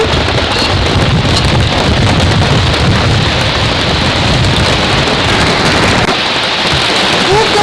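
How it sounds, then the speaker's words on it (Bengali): Heavy rain pours steadily and loudly outside a kitchen on an overcast day, a dense continuous roar with some wind rumble, with no clear talk over it. "ওদিকে ঝমঝম করে বৃষ্টি চলে আসছে"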